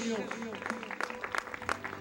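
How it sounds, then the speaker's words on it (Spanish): A church congregation breaks into applause while a voice keeps talking over it; the claps come as sharp bursts under the speech, modest in level and growing denser toward the end. "Vamos, denle un aplauso fuerte a Dios."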